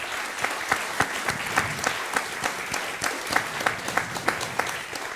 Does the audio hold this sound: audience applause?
yes